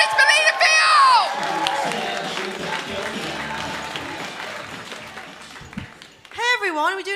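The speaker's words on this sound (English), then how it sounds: "start the applause! Start the cheering" An audience at an online comedy show claps and cheers in a dense burst of applause, with whoops and shouting voices over it, then talk comes in at the end.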